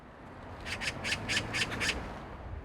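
A magpie gives a quick chattering run of about six harsh, rasping squawks in a row. The calls stand alone against a faint background.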